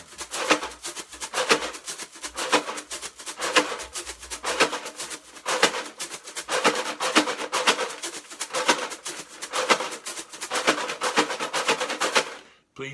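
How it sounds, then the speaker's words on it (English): A soft, steady shaker rhythm with periodic louder accented hits, playing alone for about twelve seconds before stopping abruptly. "So soft shaker, and then you add an accent,"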